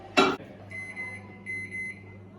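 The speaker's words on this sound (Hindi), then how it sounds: "इसे मैं डालूंगा माइक्रोवेव में for around 1 minute 30 seconds." A microwave oven heating a cup of black coffee gives a sharp thump, then two short runs of faint electronic beeps over a steady low hum.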